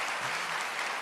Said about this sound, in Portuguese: Glória a Deus, pode aplaudir.